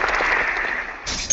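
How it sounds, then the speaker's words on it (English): A short applause sound effect, a bright crowd clapping burst played at moderate level, cutting off abruptly after about a second. "I'm going to give you an applause"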